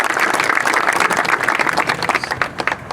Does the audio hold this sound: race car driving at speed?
no